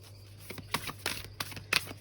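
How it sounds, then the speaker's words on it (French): Cards from a shaman oracle deck are shuffled and drawn, a handful of soft papery riffles and slaps in short bursts over a low steady hum, close and fairly quiet. "On va tirer maintenant une carte de l'oracle du chaman mystique"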